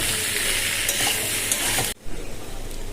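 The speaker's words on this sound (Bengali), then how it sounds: "লঙ্কার গুঁড়ো আর জিরের গুঁড়ো কষিয়ে নিই" Chili powder and cumin powder sauté in a pan with salt and turmeric. A close, busy sizzle is stirred with scraping strokes, then drops sharply near the end to a quieter, fainter hiss.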